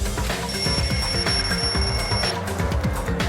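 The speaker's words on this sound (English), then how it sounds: "The lounge's wall clock alarm started ringing at 5:30." A wall clock alarm in the lounge of Danganronpa 2 rings loudly and continuously with a steady bright tone, then gives way to lower game sounds near the end.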